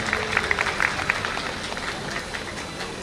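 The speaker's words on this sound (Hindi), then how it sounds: "तालियों से उनका स्वागत किया जाए" An audience at a Holi celebration claps steadily, a dense patter of many hands filling the space, with a faint voice in the background.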